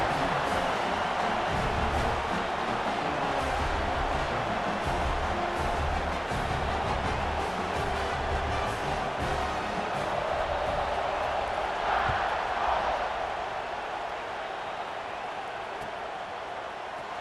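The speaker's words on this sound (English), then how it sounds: "this crowd is buzzing after that last score" A large stadium crowd in a college football video game keeps up a dense, steady roar after a score, loud and unbroken for the whole stretch, easing slightly toward the end.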